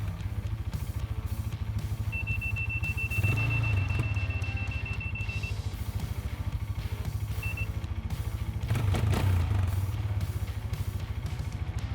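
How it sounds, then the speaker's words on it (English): A cheap Chinese 4x4 ATV idles with a low, steady rumble while its thin, high electronic reverse-gear warning tone sounds for a few seconds, then chirps briefly once more. "It also has a reverse gear beep,"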